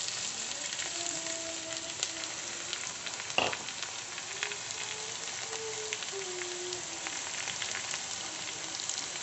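Sliced onions with ginger and green chilli sizzle steadily in a pan, a continuous close crackling fry with a single brief knock of a utensil partway through.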